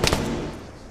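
A shot from the player's firearm in the video game Argo, one sharp close crack with a quick follow-up and a short rumbling tail.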